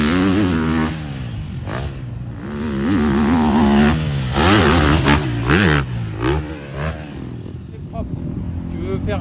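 A motorcycle engine revs and surges during riding practice, rising and falling in pitch, loud and close, with people talking over it.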